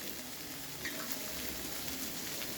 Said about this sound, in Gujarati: હવે આપણે સૂકા મસાલા નાખીશું